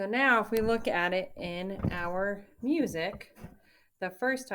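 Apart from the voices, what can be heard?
None of the usual background noises is heard.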